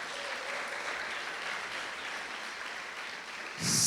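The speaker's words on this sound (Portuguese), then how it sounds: "Aplauda o Senhor" A church congregation claps in praise during a ministry school session, a steady, moderately distant wash of applause that stays even throughout, then swells slightly louder near the end.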